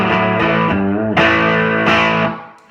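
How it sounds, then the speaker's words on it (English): An electric guitar played through an amp with the gain pushed past the volume gives thick, sustained distorted chords that ring loud and change twice before fading out at the end. "I can also take the gain and take it past the volume."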